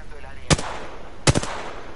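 Two sharp, loud gunshot bursts from the video game Apex Legends crack close by, spaced under a second apart, each with a short rattling tail over a quiet background.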